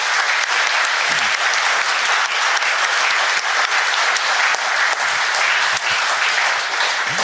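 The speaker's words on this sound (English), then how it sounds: "Can we give them a round of applause?" A concert audience gives a sustained round of applause, dense continuous clapping at full volume for the whole stretch with a few cheers mixed in.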